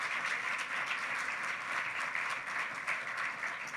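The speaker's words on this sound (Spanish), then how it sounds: "¿Cuántos le dan un aplauso al Señor, por favor?" A church congregation at a Spanish-language service gives a steady round of applause to the Lord, even dense clapping holding at a moderate level throughout.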